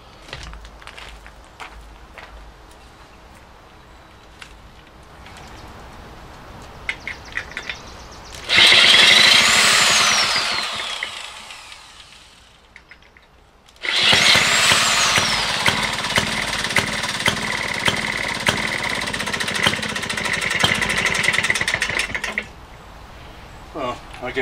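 A Maytag 92 engine, spun over with an electric drill, catches and runs in two loud bursts of several seconds each, a steady buzzing clatter between quieter handling noises.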